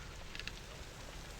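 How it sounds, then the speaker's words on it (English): Freezing rain falls outdoors among ice-coated backyard trees, a steady fine patter and hiss that holds evenly throughout, with a few brief sharper ticks. "We got freezing rain."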